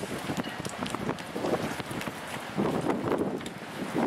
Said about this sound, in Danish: Det blæser rigtig meget hernede.